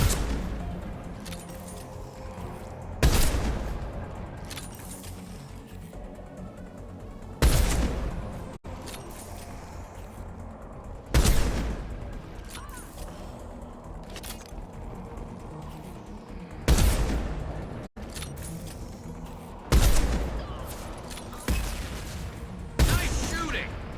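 Firefight gunfire from Mass Effect 2, with repeated loud bursts and volleys at irregular intervals over a sustained bed of combat noise, with voices speaking in between.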